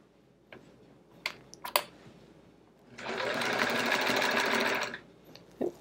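A sewing machine stitches in the ditch along the seams of a chevron quilt, running in one steady, close whirring burst of about two seconds, with scattered light clicks of handling before and after.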